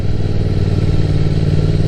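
Motorcycle engine holding steady revs while riding on a mountain road in Japan, a continuous close droning hum with strong low harmonics and constant loudness throughout.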